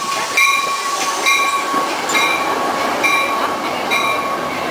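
A double-decker commuter train in Chicago runs steadily, its broad rumble and hiss close by, with high squealing tones and wheel clicks that come back about once a second.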